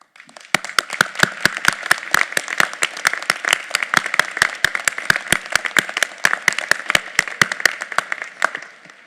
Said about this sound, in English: Will students graduating with University Honors, Collegiate Honors, or Honors in a Major please stand and receive our applause?